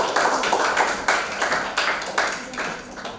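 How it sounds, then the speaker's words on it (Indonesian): A classroom of students applauds a classmate with a steady run of close, fairly loud hand claps lasting a few seconds, with no talking over it. "Tepuk tangan buat Aprian."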